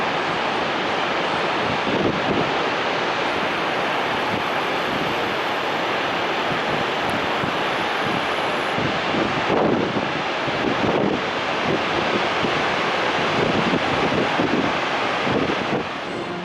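Dettifoss waterfall in Iceland, Europe's most powerful by water volume, roaring as a constant broad rush of water heard up close, with gusts of wind buffeting the microphone.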